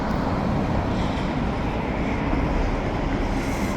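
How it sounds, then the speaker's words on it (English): A freight train with a bulkhead car loaded with heavy steel rumbles past close by, a loud, even roar of rolling wheels and cars with no voices. "Bulkhead car loaded with heavy steel in this one here"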